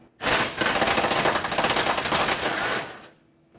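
A ratchet wrench with a 10mm socket backs out a bumper bracket bolt on a 2009-2014 Ford F-150, a close, loud, rapid run of clicking that lasts about three seconds and then stops.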